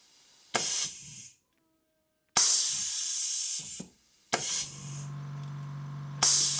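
A pneumatic valve, switched through a relay by a proximity switch, lets out three loud, close bursts of air hiss separated by silent gaps, and a fourth burst starts at the end; a faint hum runs under the third burst.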